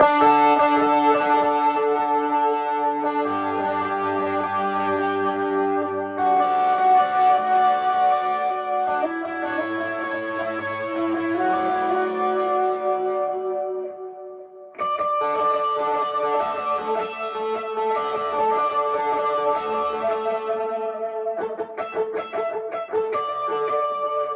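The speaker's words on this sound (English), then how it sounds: "So you've got plenty of amp there, even at a small level with some overdrive." Overdriven electric guitar played through an amp, sustained distorted chords and notes with a brief pause midway, loud and alone without talking.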